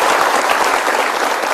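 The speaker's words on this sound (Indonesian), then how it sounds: "Jadi saya pikir kita berikan tepuk tangan dulu untuk Gayatri" Studio audience on the Kick Andy talk show applauds for Gayatri, a dense, steady wash of many hands clapping at full loudness with no break for the whole moment.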